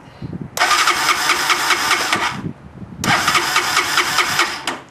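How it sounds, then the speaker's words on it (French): A motorcycle fitted with a new CDI unit cranks and catches in two separate bursts of loud, rough roaring, each lasting about two seconds, with a brief pause between them. "Je vais essayer de démarrer la moto."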